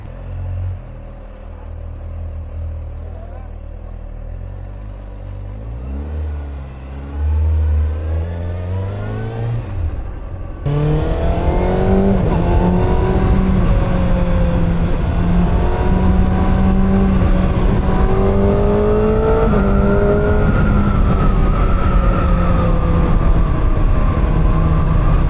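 A Kawasaki ZX6R motorcycle with its stock exhaust is cold-started at night. The starter cranks and churns for several seconds, then the engine catches with a sudden jump into a loud, steady idle that rises slightly in pitch.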